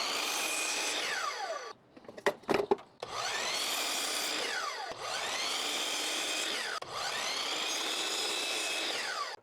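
Power saw set at 45 degrees nicking the corners off wooden cornhole board legs, with several sustained whining cuts of a few seconds each, broken by a brief burst of knocks and handling between them, close up with no talking.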